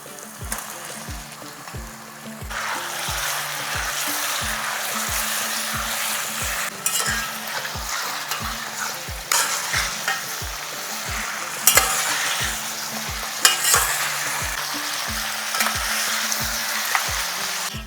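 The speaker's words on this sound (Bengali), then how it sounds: "এই সময় গ্যাসটাকে একটু হাই ফ্লেমে রেখে মাটনটাকে ভাজা ভাজা করে নেব" Marinated mutton fries on a high gas flame in a pan, a steady loud sizzle broken by regular rhythmic scrapes and knocks of the spoon stirring, continuing without speech.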